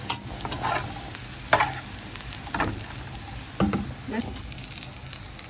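Egyptian eggah, an egg dish, fries in a pan with a loud close sizzle broken by several sharp spatters and stirring clatters at irregular intervals, with no talk.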